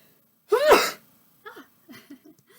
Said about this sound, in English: That was me sneezing